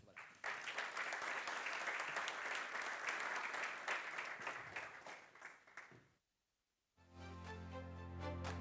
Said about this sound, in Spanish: Un aplauso para él